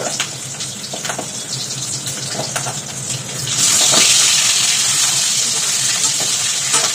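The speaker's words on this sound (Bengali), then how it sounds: "সব মাছ ফুটছে, পাবদা মাছ" Close sizzling and spattering of pabda fish frying in hot oil, with scattered crackles that swell into a louder, denser hiss midway and stay strong to the end.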